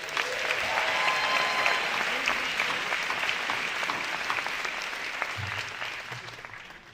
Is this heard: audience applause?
yes